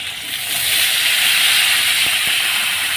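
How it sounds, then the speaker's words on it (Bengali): Water poured into a hot pan of curry sizzles loudly, a close, steady, broad hiss of steam that rises and holds for a few seconds, with no talking. "তো এর মধ্যে এখন আমি জলটা দিয়ে দেবো"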